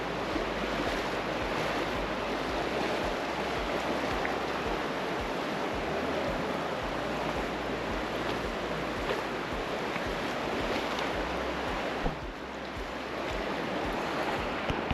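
River water rushes steadily through the canyon of the Narrows in Zion, a loud, continuous wash of flowing water with no break and no voices.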